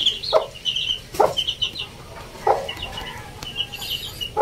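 Newly hatched chicks and hens on a backyard farm, with several short clucks and chirps rising in scattered bursts, fairly close, over quiet outdoor background and no talking.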